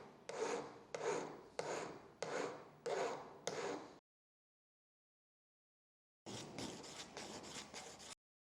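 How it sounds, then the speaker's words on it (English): A metal file rubs back and forth across a handmade ring's surface to give it a brushed finish: six rhythmic rasping strokes, a pause of silence, then a longer continuous rasp, close up. "Here's an example of how to create a brushed look with the file in your kit."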